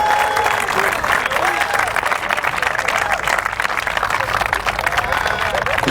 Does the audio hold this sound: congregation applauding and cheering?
yes